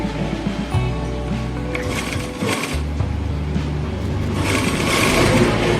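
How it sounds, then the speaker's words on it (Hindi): A sewing machine runs steadily as it stitches a straight seam along a fabric strip on a kurti, a continuous close mechanical whir with no talking. "यहाँ से सीधी सिलाई चलाएंगे ऐसे"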